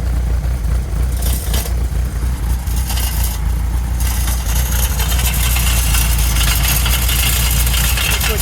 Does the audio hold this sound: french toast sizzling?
no